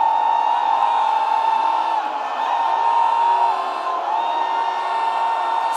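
A crowd at a combat-prayer gathering shouts war cries, many voices holding loud, sustained tones together, rising and dipping slightly but never breaking off.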